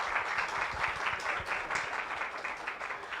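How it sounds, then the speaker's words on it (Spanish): Audience applause at a talk on communication at a PILARES community center in Mexico, steady dense clapping from many hands, moderately quiet and unbroken, with no voices over it. "Un fuerte aplauso para ella."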